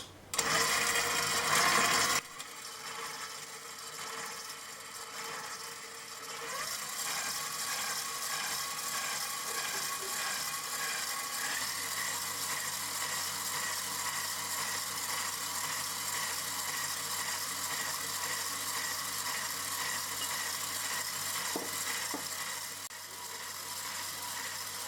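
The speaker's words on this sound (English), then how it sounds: "I'll start mixing egg yolks now with sugar." Electric mixer whipping egg yolks with sugar in a bowl, a steady whirring motor drone with rattling beaters that runs continuously after a brief clatter at the start.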